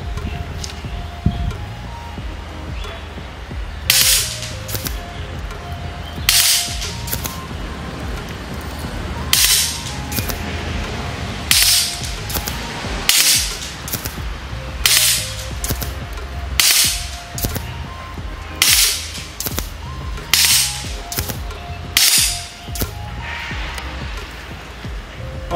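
An Air Arms SK19 5.5mm air rifle on full auto fires short rapid bursts, each a sharp cluster of crisp snapping shots, repeated about a dozen times over a steady background hum, loud and close.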